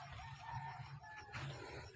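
Farm chickens clucking nearby in a steady low chatter, with a few louder squawks and a brief rooster-like call rising over the continuous flock noise; no talking.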